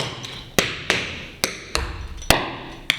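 Tap shoes strike a hard floor in a spring shuffle ball change step, crisp sharp clicks in an uneven syncopated rhythm, six or so hits, close and clear with no talking.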